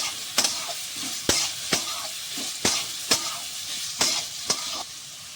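Food fries in a pan with a steady soft sizzle, punctuated by sharp scraping clacks from a utensil stirring at irregular intervals, close and without talk.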